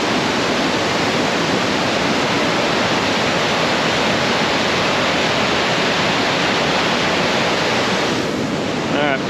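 Swollen river water roars powerfully along the Superior Hiking Trail near the Temperance crossing where the bridge is washed out, a loud, dense, unbroken rush filling the whole stretch with no talk.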